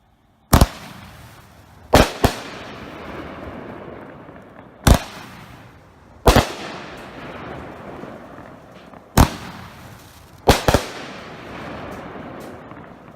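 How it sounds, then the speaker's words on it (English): Sky Bacon Fireworks' 9 Lives, a 350 gram 9-shot cake, fires about eight sharp, loud bangs at irregular intervals of one to three seconds. Two of them come as quick doubles, and each is followed by a fading crackle and echo. "Let's go ahead and look at 9 Lives by Sky Bacon Fireworks."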